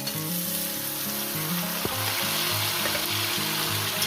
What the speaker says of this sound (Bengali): বেগুনগুলো দিয়ে আমি আরও দু তিন মিনিট ভেজে নেব